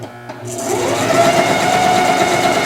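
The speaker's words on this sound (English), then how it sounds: "And I go ahead and stitch the front as well." A sewing machine stitches the front of a fabric stocking with a 1/4 inch seam, its steady high whir starting after a brief pause and running close and loud, with faint talk beneath.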